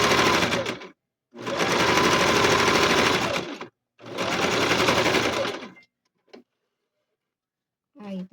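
Sewing machine stitching quilting on a child's backpack, running in three long continuous bursts of whirring stitches separated by short pauses, followed by a couple of brief clicks.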